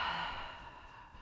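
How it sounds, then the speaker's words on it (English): A single slow, deep inhalation during a yoga session, close and soft, heard alone as a breathy airy rush that fades gradually. "Take a deep breath in."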